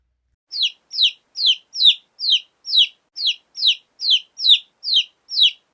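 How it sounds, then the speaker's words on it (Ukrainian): Twelve shrill peeps from a chick repeat in an even rhythm, each a short high chirp, clear and close against silence. "Та це ж маленькі курчатка."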